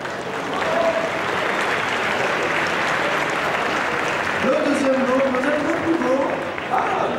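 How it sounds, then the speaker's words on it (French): Sustained crowd applause and cheering at the Windjammers finals of a video game tournament, a dense continuous clatter with voices calling out over it throughout. "Vous pouvez applaudir Soun."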